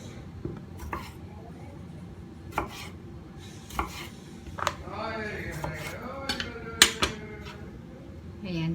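Knife chopping tomato on a cutting board in a home kitchen, a series of irregular sharp knocks spread through the clip with quiet background noise and faint speech.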